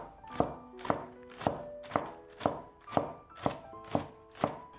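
A knife chops green onions on a cutting board in about eight steady, evenly spaced strokes, each a crisp close thunk, with no talking.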